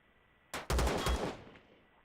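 A pellet pistol in the video game Empyrion fires a quick burst of three or four close, sharp shots in rapid succession, each trailing off into a short fading ring.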